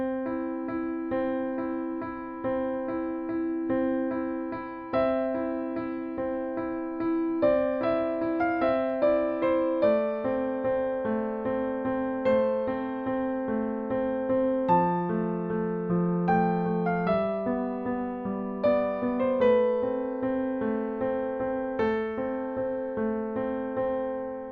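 Piano plays the opening of a song, a slow rhythmic pattern of repeated chords and melody notes, clear and close, steady for about twenty-five seconds with no voices.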